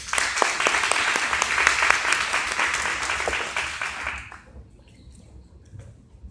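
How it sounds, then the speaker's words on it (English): Audience applause at a leadership talk, dense clapping that fills the room for about four seconds, then fades out abruptly and leaves quiet room noise. "please give a round of applause for Miss AJ"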